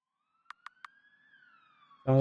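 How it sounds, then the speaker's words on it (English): In the game Kandinhale, a faint, distant siren tone slowly rises and falls, preceded by three soft clicks, before a loud low rumble cuts in at the end. "Sounds like sirens."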